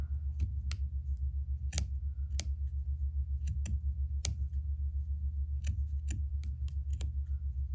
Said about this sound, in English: Okay, so we're just going to continue to cut